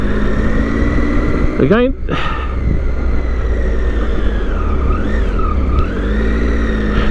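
A Triumph Tiger 800 motorcycle engine drones loudly on the road with wind rush, its pitch sweeping up briefly as it changes gear, while someone talks over it.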